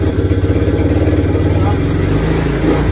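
A Yamaha Mio Sporty scooter engine with a misfiring fault runs close by, a steady, rough, uneven putter that sputters without stopping for the whole stretch.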